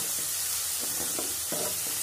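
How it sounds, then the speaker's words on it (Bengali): Steady sizzling of ginger garlic paste frying in a hot pan, with a few soft stirring scrapes; no voices. "আদা রসুনটাকে একটু ভেজে নিতে হবে"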